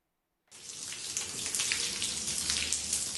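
Water leaks and pours inside an NHS hospital. After a half-second of silence it starts abruptly into a steady, close splashing rush that continues without pause and has no voices over it.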